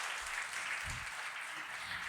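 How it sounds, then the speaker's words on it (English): A round of applause from the audience welcoming a panelist at a discussion on adolescent mental health, quiet and steady clapping from a crowd, with faint low thumps beneath. "Please give them a big round of applause."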